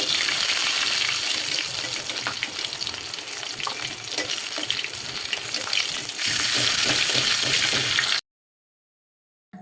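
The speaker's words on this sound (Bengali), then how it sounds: "ঘন্টতে দেওয়ার জন্য আলু ভেজে নেব।" Potato pieces fry in hot oil in a pan for cabbage ghonto, a loud, dense sizzle with occasional stirring that cuts off abruptly near the end.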